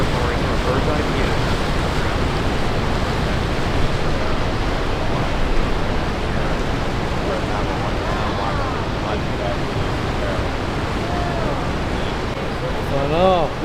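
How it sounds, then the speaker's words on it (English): Water at Niagara Falls rushing and roaring as a broad, constant wash of noise, close and loud, with some wind buffeting the microphone and a voice talking over it. "Of the Niagara Falls water, right? River, right? Waterfall right there."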